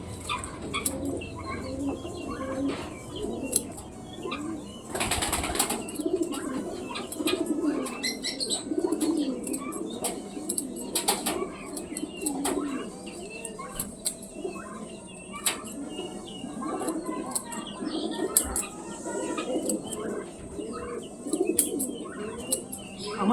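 A pet parakeet chatters and makes repeated short squawks and murmuring calls in a home, close and continuous, with brief louder clicks and bumps scattered throughout.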